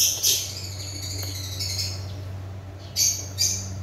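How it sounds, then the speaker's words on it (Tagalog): Small birds chirp close by in bright, brief calls, a few at the start and a pair near the end, over a steady low hum during a Yamaha MT-15 ignition coil and spark plug install. "sorry sa ingay yung mga ibon"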